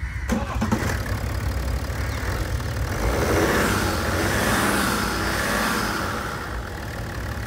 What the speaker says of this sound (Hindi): और एक बार आपको इसका सेल्फ मार्क इंजन की साउंड सुना देता हूँ।